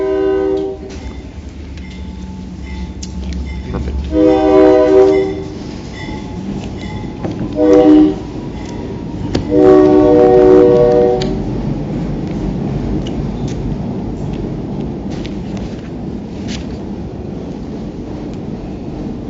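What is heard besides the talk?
train passing with horn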